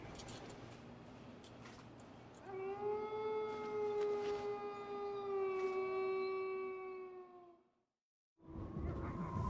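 A wailing alarm siren from the Metal Gear Solid 2 video game rises and holds a loud, steady tone over a background rumble. It drops out abruptly for a moment, then starts again.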